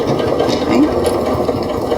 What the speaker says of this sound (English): I'm going to go ahead and secure my threads by back stitching a little bit.